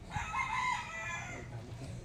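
A live rooster crows in a drawn-out call over the first part, moderately close, with quieter ambient noise and faint shuffling continuing afterward.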